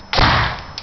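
A homemade potato cannon from a science fair project fires outdoors with a single loud, sharp thump that decays over about half a second, followed by a faint brief tap.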